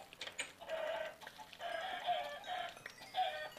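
Chickens in the Minecraft video game cluck in short repeated bursts, several quick clucks in a row with brief gaps, fairly quiet and with no talking.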